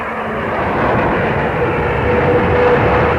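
Military jet aircraft launching during Operation Desert Storm produce a loud, continuous engine roar that holds steady and swells slightly toward the end.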